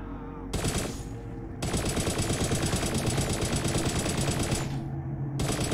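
Rapid automatic gunfire from the video game The Infiltrators, fired at an infiltrator in a bunker, loud and sustained for several seconds with a brief pause near the start and another near the end.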